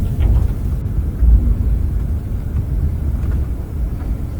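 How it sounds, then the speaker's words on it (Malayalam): Low, steady rumble of a bus engine driving off a ferry on a sea crossing from Belfast to Glasgow, a continuous drone with no talk. "ബസ്സാണ് ഇപ്പോൾ നമ്മളെ ഇറക്കി കൊണ്ടുപോകുന്നത് കേട്ടോ"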